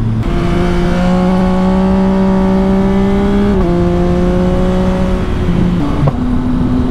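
Yamaha Tracer 9 GT motorcycle fitted with an LV race exhaust, its engine holding a loud, steady droning note with a slight rise, a brief dip and shift near six seconds, close up throughout.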